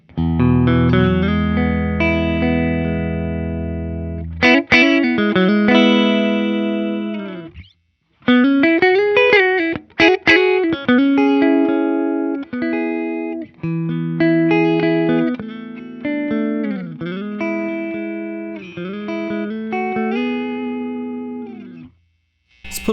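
Electric guitar played on its middle pickup through a Dr. Z Maz 18 or Magnatone Varsity Reverb tube amp, ringing chords and single-note lines with bends, fairly loud and close, with short gaps between phrases and no talking.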